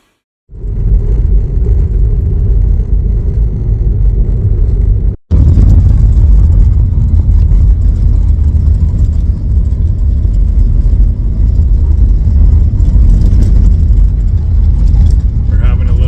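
A car engine rumbles loudly and steadily during a driving lesson, cutting out for a moment before the low drone resumes, with voices under the noise.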